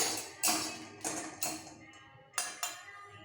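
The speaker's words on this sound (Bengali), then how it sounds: "গ্যাস অন করে কড়াই বসাবো" A kadai (wok) is set onto a gas stove with several close metallic taps and knocks, in uneven clusters, against a quiet room background.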